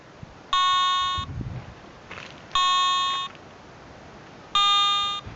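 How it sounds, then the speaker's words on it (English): Three identical electronic beeps from a Garrett ATX metal detector signalling its scan is done, each about three-quarters of a second, evenly spaced in a steady rhythm over a quiet background hiss. "we'll get the beeps to indicate that it's got a quiet operating frequency and we're away"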